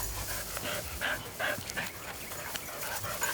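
Detection dogs sniff and pant busily at a fox den in the Australian bush, quick rhythmic snuffling bursts close to the ground, with faint whines and rustling but no voices.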